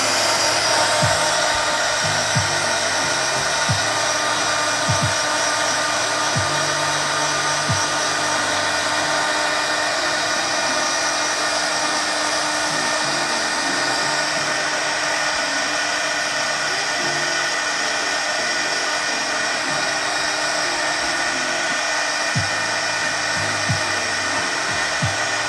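Hair dryer running steadily at close range to dry paint on a small painted scene, a continuous loud whirring hiss lasting throughout with faint low knocks underneath.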